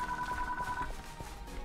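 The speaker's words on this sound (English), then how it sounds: "Does the phone always have to interrupt my recordings?" A telephone rings indoors, a steady electronic warble lasting under a second that then stops, over a low background hum and game sounds.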